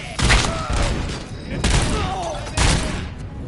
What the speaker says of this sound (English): Jeez, this gun's got some kick.